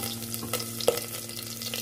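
Garlic sautéing in a pan for Filipino beef kaldereta, a brief steady sizzle with a low hum and a couple of faint utensil taps, close by with no one speaking.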